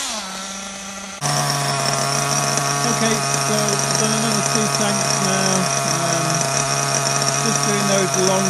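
A Kyosho MP9 nitro RC buggy engine rising from a low buzz into a loud, high, sustained whine at full throttle after about a second, close by and wavering slightly in pitch, with a voice talking over it.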